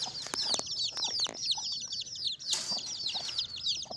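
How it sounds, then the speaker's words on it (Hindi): Busy chirping from a group of chicks, with quick rising peeps repeating over steady low outdoor background noise and a few clucks from a hen. "और ये रहे हमारे चूजे"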